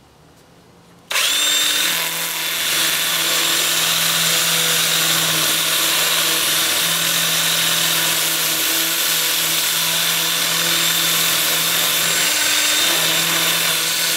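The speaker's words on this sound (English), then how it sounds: "Then I'll switch to my 2-inch disc, starting at 80 grit, and sand the piece while it's spinning in reverse" A spinning black walnut piece on a wood lathe is sanded with a 2-inch disc at 80 grit, giving a loud, steady power-tool whir with a constant hum that switches on abruptly after a second of quiet.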